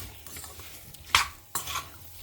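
Sliced onions and okra sautéing in a pan, a soft sizzle underneath with two sharp scraping strokes of a utensil stirring against the metal, heard close and without talk.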